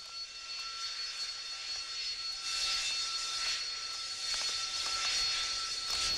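Harrier jet engine roaring steadily with a high-pitched whine, loud and sustained throughout with slight swells in intensity, no speech.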